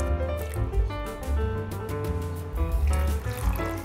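Half a cup of water is poured into a spice mixture for a dhaba-style masala chana dal. A short liquid trickle and splash sits under steady tonal background music.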